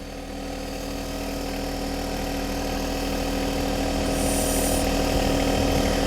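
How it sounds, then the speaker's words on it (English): A John Deere 1025R compact tractor idles steadily while the frame of a 260B backhoe is lowered into its mounting frame, a constant mid-pitched engine drone with faint hydraulic mechanism noise and no talking. "I'm going to set the frame of the backhoe down into the mounting frame of the tractor"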